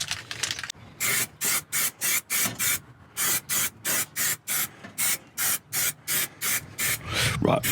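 Tetraseal stone chip coating sprayed from an aerosol can onto a Honda FN2 Civic Type R, a run of about a dozen short, loud hissing bursts in a steady rhythm with brief gaps between, close to the can.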